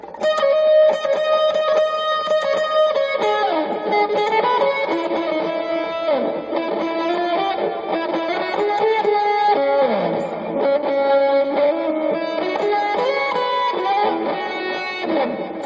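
A sustained synthesizer melody with fuzzy distortion, echoing delay and reverb, gliding between notes continuously and loudly with no voices.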